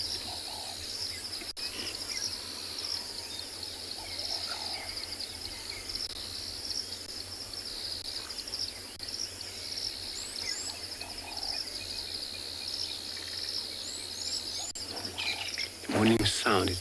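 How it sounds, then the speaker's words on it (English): Quiet sunrise in the bush on safari near a dam, with soft bird calls and chirps drifting over a constant insect drone, fairly distant and steady throughout, and a louder rustle right at the end. "only birds that you can hear"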